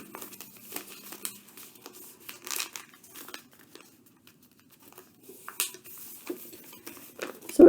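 Close paper crinkling and rustling as a sheet is folded into an origami heart, heard in scattered soft bursts with quiet gaps and a louder crackle at the end.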